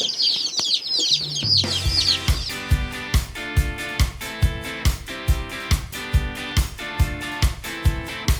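Two-day-old baby chicks peep in quick high chirps for the first couple of seconds, nestled under a heat lamp, before a steady rhythmic music track with a regular beat takes over.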